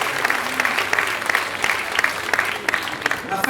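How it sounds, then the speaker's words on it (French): A crowd claps at a 2017 New Year's municipal speech, brisk continuous applause from many hands filling the room, moderately loud with a faint murmur of voices underneath. "et on peut l'applaudir."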